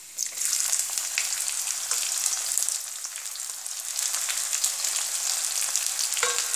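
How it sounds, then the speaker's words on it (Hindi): Steady, close sizzling of onions frying in a hot pan, a continuous crackle with occasional stirring sounds and no talking. "प्याज को जब तक भूनेंगे जब तक थोड़ा सा हल्की सी ब्राउन ना हो जाए"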